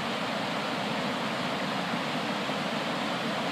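Steady broadband rush of falling water from an outdoor waterfall, continuous and fairly loud, with no voices or other sounds breaking through.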